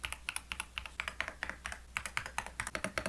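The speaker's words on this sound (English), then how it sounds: "Budgeiger switches, I think, sound like this" Typing on an Epomaker Shadow-X mechanical keyboard with Budgerigar switches, a rapid, close sequence of crisp, clicky keystrokes in an uneven rhythm, heard alone.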